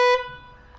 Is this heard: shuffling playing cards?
no